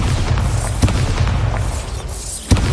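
A booming Bombarda spell explosion in a wizard video game, a dense roaring blast with a couple of sharper thuds popping through the rumble, loud and close, without speech.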